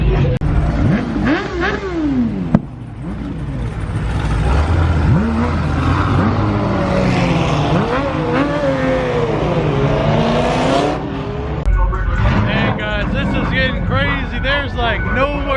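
Cars leaving a car show accelerate hard along a straight road, their engines revving loudly and sweeping past one after another. People talk over the engine noise.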